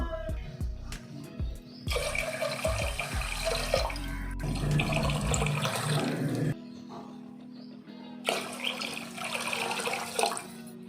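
Water is poured into a cooking pot for rice and mung bean pongal, running and splashing steadily in bursts, with brief pauses between pours and a few clinks of containers nearby.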